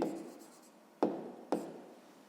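Pen writing by hand on paper during a sixth-grade maths exercise, a soft continuous scratching broken by two sharp taps or strokes near the end, close and quiet with no talk.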